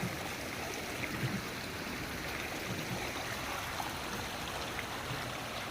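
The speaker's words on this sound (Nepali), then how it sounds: "यहाँ पानी पनि चलिरहेको छ।" Water runs steadily through an open roadside drain beside a road being graded and soled at a construction site, a soft continuous trickling flow with no talk over it.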